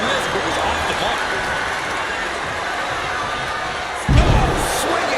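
A roaring arena crowd in a WWE wrestling video game keeps up a dense, steady wall of cheering, with a sudden louder thump-like surge near the end.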